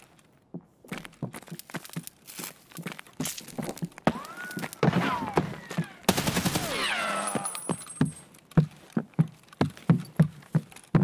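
Gunfire in the Escape From Tarkov video game on the Reserve map: a rapid run of sharp, loud shots in bursts, mixed with clattering game sounds and a brief whistling tone midway, with no talking.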